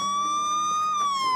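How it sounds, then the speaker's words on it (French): An Android smartphone sounds a loud siren alarm, a steady piercing electronic wail with a slowly shifting pitch that rings continuously and close, with no talk. "on peut aussi faire hurler le téléphone, donc on met en place une sirène"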